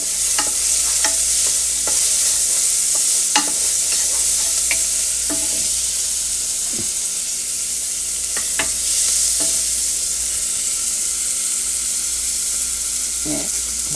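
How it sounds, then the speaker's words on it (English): Chopped onions and green pepper sauté in a pan on a stove, giving a loud, continuous sizzle and hiss with occasional light pops and utensil taps throughout. "And some green pepper. So I'm going to saute these down a little bit."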